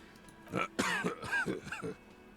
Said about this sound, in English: The old man lets out an annoyed cough